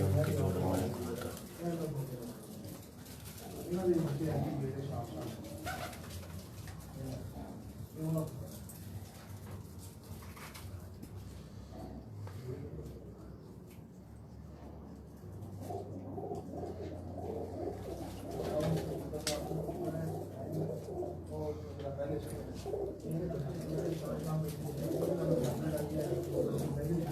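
Breeding pairs of caged pigeons coo continuously in soft, overlapping low calls while someone talks throughout.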